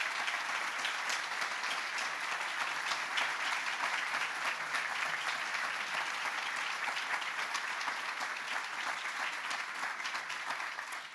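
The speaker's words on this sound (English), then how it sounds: "a round of applause." A crowd at the Power of Connection 2023 gathering gives a sustained round of applause, with thick, even clapping held at a steady level for about eleven seconds.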